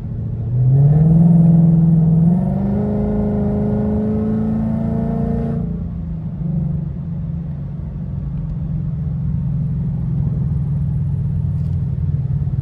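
A car engine running on E85 fuel revs up sharply toward 4,000 RPM, its whining harmonic tone climbing and holding loud and close for several seconds, then dropping away into a steady low rumble for the rest of the stretch, with no voices.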